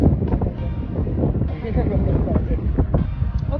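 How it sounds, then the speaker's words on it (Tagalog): Strong wind buffets the microphone in a steady, loud roar on the beach at Anawangin Cove, Zambales, with people talking underneath. "Lakas ng ano ng hangin."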